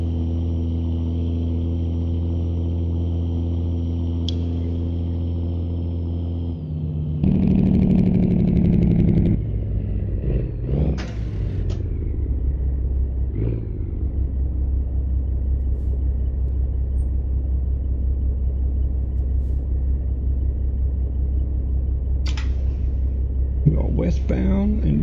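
A Peterbilt-style long-frame truck with a 3406 Caterpillar engine rated at 515 horsepower and an Eaton 18-speed gearbox, driven in American Truck Simulator in Wyoming, gives a steady low diesel drone with an air-brake hiss, a gear change and a couple of short sharp bursts.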